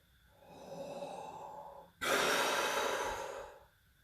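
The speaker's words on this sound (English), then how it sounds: "This time we're going to do in for 2 and out for 2, so it's going to be a much quicker breath." Quick paced breathing warm-up, in for two counts and out for two: a softer, airy inhale followed by a sharp, louder exhale, close and clear with no talk.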